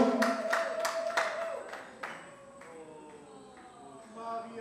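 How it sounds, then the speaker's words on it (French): At an awards ceremony, a few sharp claps for a best supporting actress start out fairly near and loud, then thin out into scattered clapping. Murmured voices and a faint tonal sound continue underneath afterward. "Des applaudissements nourris pour cette grande artiste, remplie d'émotions"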